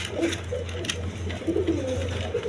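Pigeons coo softly over a low background hum, with several short, throaty calls repeating through the brief stretch at a market stall selling birds.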